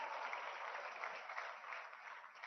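A crowd at a Nigerian election tribunal talk claps steadily throughout, a dense, even wash of many hands with no pauses and no voices rising above it.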